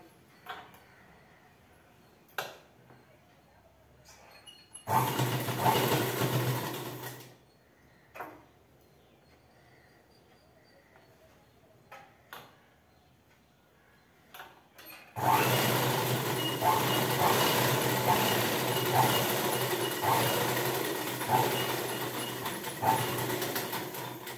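Sewing machine stitching the folded hem of a blouse, running in two bursts, a short one and then a longer steady whir, with quieter handling noises and light talk in the pauses between.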